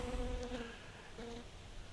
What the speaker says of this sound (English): I got a bee on me